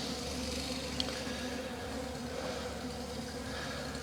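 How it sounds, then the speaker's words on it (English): Honeybees flying back to their hive make a soft, steady buzzing drone, faint and close, with a single brief tick partway through. "I see lots of bees coming back without pollen,"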